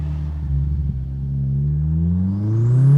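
A turbocharged Mazda Miata sleeper making about 470 wheel horsepower on E85 launches in first gear: the engine drones loudly, dips briefly, then climbs steadily in pitch as it accelerates, heard up close.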